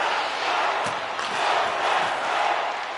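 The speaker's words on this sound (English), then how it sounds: "You can feel the energy in this crowd." An arena crowd in the hockey video game NHL 26 keeps up a loud, continuous roar of massed voices at a steady level, with a few faint knocks in the mix.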